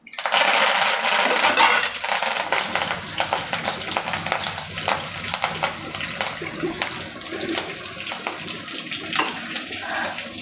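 Small onions sizzle in hot oil for a mango chutney, a steady close crackle and hiss with scattered sharp pops, loud at the start and then settling to an even fry with no one talking.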